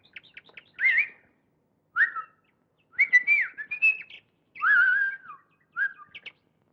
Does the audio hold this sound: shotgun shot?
no